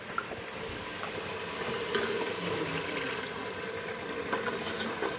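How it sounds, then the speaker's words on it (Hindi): Spiced masala for a matar aloo curry frying in a pan with a little added water, a steady soft sizzle and bubbling with occasional stirring scrapes, close and fairly quiet. "हम मसाले को 3 से 4 मिनट तक अच्छे से भूनें"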